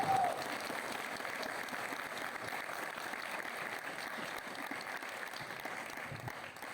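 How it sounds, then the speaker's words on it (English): A Malawian audience gives three LUANAR-Bunda students a round of applause; steady, fairly distant crowd clapping continues evenly throughout, fairly quiet overall, with no speech on top. "can we give these girls another round of applause?"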